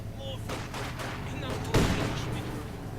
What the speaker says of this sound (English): Another rifle grenade there, not quite wiping that